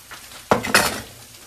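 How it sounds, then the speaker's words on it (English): Garlic hits a hot pan for cauliflower with a sharp clatter, followed by a second clank and a brief burst of sizzling in a home kitchen. "And I'm going to go ahead and add the garlic now."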